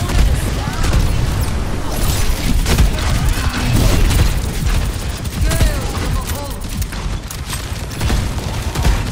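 Dense, continuous gunfire hammering at a shield in a chaotic Overwatch 2 competitive match, rapid loud bursts and mechanical clatter layered with impacts, with a player's voice talking over the din.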